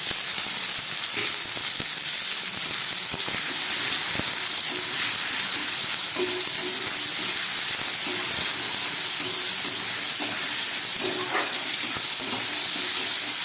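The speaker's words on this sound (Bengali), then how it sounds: "ভালো করে ভেজে নিচ্ছি।" Chopped onions, capsicum and tomatoes fry together in a pan, giving a steady, close sizzling hiss with a few small pops and crackles throughout, and no talking.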